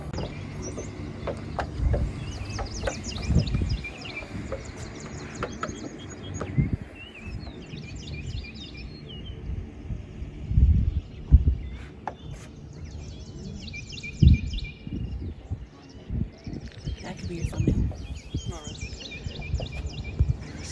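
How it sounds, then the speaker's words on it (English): Small birds chirp and twitter intermittently in the distance over a quiet outdoor background at The Wilds safari park, with occasional low rumbles and soft voices. "You hear bird chirping, but otherwise it's very quiet."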